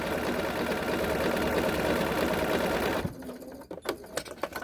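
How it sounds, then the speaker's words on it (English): A sewing machine runs steadily, top stitching the center of a crossbody bag for about three seconds, then stops, leaving light handling clicks and rustles. "now I'm going to top stitch the center of the bag"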